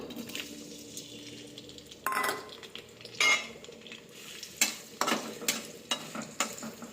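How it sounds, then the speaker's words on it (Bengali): Onions frying in hot oil for a meat curry, with a steady soft sizzle broken by several sharp scrapes and clanks of a spatula stirring in the pot. "একটু পেঁয়াজটা একটু ভেজে নেব"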